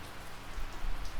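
Heavy rain pours steadily on an outdoor surface in Chechnya, a dense continuous hiss of drops with a low rumble beneath, fairly quiet and with no voices.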